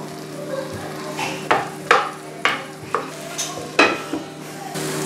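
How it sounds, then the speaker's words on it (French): Bell peppers and potatoes sautéing over low-to-medium heat, with a soft steady sizzle under a series of sharp scraping and clinking strokes as a utensil stirs and knocks the pan about eight times. "Alors les poivrons avec les pommes de terre. Là aussi je fais revenir quelques minutes"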